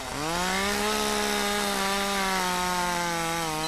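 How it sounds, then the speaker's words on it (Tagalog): Chainsaw in the horror video game Curse Digicam, a loud steady buzzing drone that revs up at the start and holds continuously, with no talk over it. "Ay, is that a chainsaw?"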